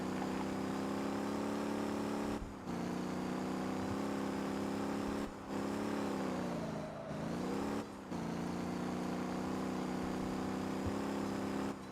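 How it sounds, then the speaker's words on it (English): Race car engine in the video game Motor Town drones steadily and loudly at a constant pitch, with several brief dips where it cuts out and a short pitch sag before picking back up. "The sound of this engine, I feel like Mad Max."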